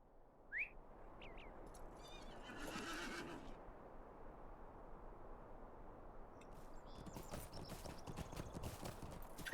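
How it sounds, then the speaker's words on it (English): A horse in the online game LOTRO gives a short, bright whinny near the start, then a steady run of hooves clopping plays under a faint background bed, growing busier toward the end. "So back on our horse we get."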